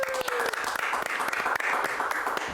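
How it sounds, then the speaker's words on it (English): Continuous applause fills a live football fan TV studio, steady and fairly close, with crowd murmur and a brief tone at the start. "I like the fact you clapped yourself"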